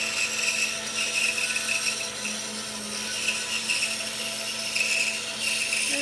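Hand saw cutting through a log while making a dovetailed box from it, a steady continuous rasping drone held close and even throughout with no talk.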